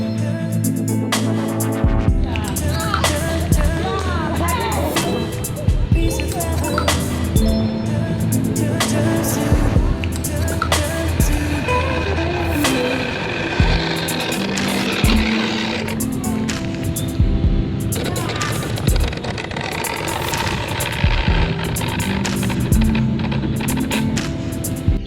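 A WPL RC car with a brushless motor and a faulty reduction gear running outdoors, giving a steady loud whine that rises and falls as the car speeds up and slows.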